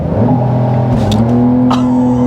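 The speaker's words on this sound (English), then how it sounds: "we'll start out with a hard acceleration" A 2023 Porsche 911 GTS accelerates hard from inside the cabin, a loud steady engine roar whose pitch climbs through the revs, with a brief shift dip partway and no talking.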